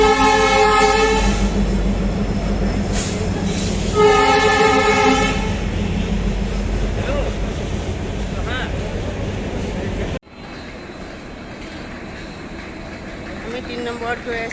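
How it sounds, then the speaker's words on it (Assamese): A Puri-bound passenger train stands at railway platform 3, its horn sounding in loud repeated blasts near the start over a rumbling station din, with people talking, before a sudden drop to quieter platform ambience. "আমাৰ পুৰী ট্ৰেইন আমাৰ 3 নম্বৰত আছে।"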